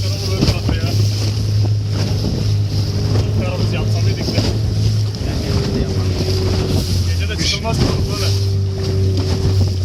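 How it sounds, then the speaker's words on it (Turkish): A motorboat engine drones steadily as rough waves slap and splash against the hull while fishing off Antalya, with heavy wind buffeting the microphone and people talking over it. "Azgın dalgalarla boğuşurken teknemiz su aldı."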